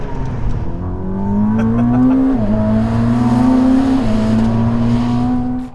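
A Ferrari SF90 plug-in hybrid supercar accelerates hard out of a tight hairpin, its loud, close engine note climbing steadily with two brief dips at the gear changes before rising again.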